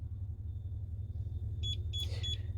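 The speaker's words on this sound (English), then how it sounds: "you'll get 3 bleeps" A Starline i96v2 immobiliser on a Range Rover Sport gives three short high electronic beeps in quick succession over a steady low engine rumble, followed by a brief fainter chirp.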